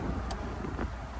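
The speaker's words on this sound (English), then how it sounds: "Motor actually sounds pretty good." A 1969 Oldsmobile Cutlass engine idles steadily in a quiet, low, even hum with a faint tick or two, heard alone with no talking.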